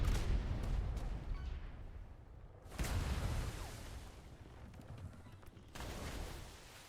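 Ship cannons fire in a naval battle video game: three heavy, rolling booms spaced a few seconds apart over a constant rumble of battle noise.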